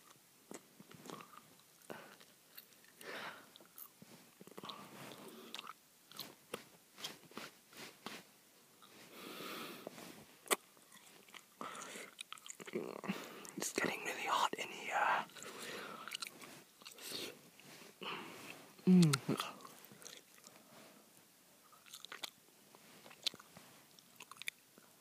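Toffee licorice candy being chewed close up, with repeated wet bites and mastication sounds in irregular bursts, louder toward the middle, with occasional sniffs between.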